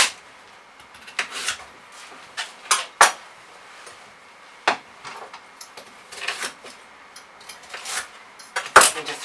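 Sweet potatoes being chopped into sections on a board in a home kitchen, with irregular knife chops and clatter of dishes and utensils, some sharp and close, scattered over about nine seconds with no talking.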